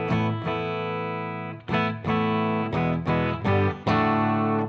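Les Paul Special electric guitar played through a deluxe Fender reverb amp with the Origin RevivalDRIVE overdrive pedal bypassed, giving a clean tweed tone; loud sustained chords ring out, with several fresh strums in the second half.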